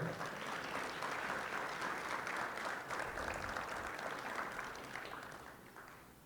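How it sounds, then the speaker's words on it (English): Audience applause at the Rialto Sports Hall of Fame 2024 ceremony, steady sustained clapping from a large crowd that holds for several seconds, then gradually thins and fades toward the end. "Let's clap it up for her"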